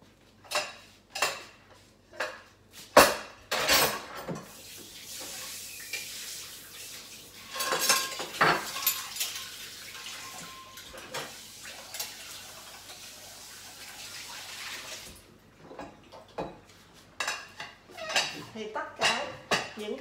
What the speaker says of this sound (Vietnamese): Những cái chén bát của mình chỉ là tráng sơ lại hơi và mình phải bỏ lại bỏ vô trong máy.